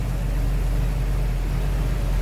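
A steady, low idle from a 1961 Chevrolet Corvette's 327 V8 rumbles evenly and continuously, close by and unchanging in pitch.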